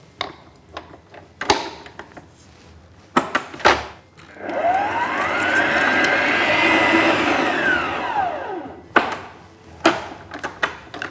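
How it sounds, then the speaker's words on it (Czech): An electric mixer whips butter for a caramel cream filling, running steadily for about five seconds with a rising and falling whine, framed by clattering knocks and taps of kitchen handling before and after. "Bude to máslo, které nejprve vyšlehám."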